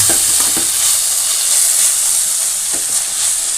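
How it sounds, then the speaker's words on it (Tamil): Toor dal sautés with other ingredients in a pan for a chutney, giving a loud, dense, continuous sizzle with faint soft stirring knocks underneath. "இப்போ துவரம் பருப்பு ஆட் பண்ணிடலாம் எல்லாத்தையும் சேர்ந்து நல்லா வதக்கிடுங்க"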